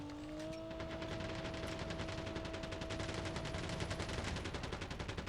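Rapid gunfire from the video game Call of Duty Mobile rattles in a continuous, evenly spaced burst at modest loudness, heard with no talk over it.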